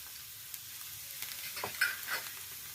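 Egg fried rice being stirred in a hot pan with chilli, coriander and pepper powders, giving a low, steady sizzle with a few soft scraping strokes of the spoon near the end.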